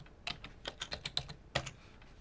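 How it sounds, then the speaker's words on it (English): Short burst of typing on a computer keyboard, a quick run of crisp key clicks with a brief pause before a final pair of taps, close and quiet. "I can do this, and I can type this in here."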